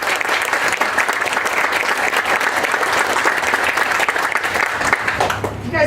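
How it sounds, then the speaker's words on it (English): An audience at a tennis center dedication ceremony claps steadily and loudly, a dense continuous wash of applause that fades slightly at the end. "You guys are doing really great at the clapping thing."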